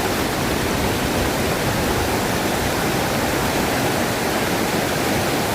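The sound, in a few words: river water flowing near a waterfall in Kenya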